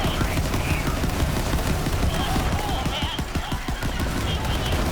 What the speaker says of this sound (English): I almost killed that guy by shooting at the Nog